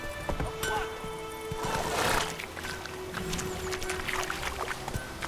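Hooves of Geralt's horse Roach at a run in The Witcher 3: steady clip-clopping gallop with a snort or whinny partway through, heard over outdoor game ambience.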